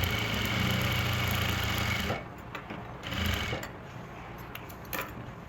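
A sewing machine stitches salwar fabric along the mori, running in a steady loud whir for about two seconds, then stopping and starting in shorter bursts with small mechanical clicks between.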